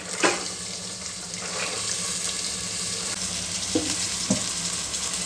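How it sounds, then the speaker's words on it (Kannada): Soaked rajma kidney beans go into a hot pan and set off a steady, close sizzle and hiss, with a few soft clinks and stirring knocks scattered through. "ಈಗ ಎಂಟು ಅವರ್ ನೆನೆಸಿರೋ ಅಂತ ರಾಜ್ಮಾ ಸೇರಿಸ್ತಾ ಇದ್ದೀನಿ"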